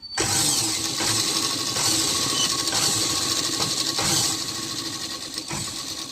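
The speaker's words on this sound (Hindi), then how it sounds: "कभी भी सिलाई शुरू करने से पहले लॉक करते हैं, मैंने कर लिया, आप भी कर लेना।" A sewing machine stitches a petticoat seam in matching thread, running steadily with a dense mechanical whir and rattle, loud and close, with a few brief pauses and slight changes in speed.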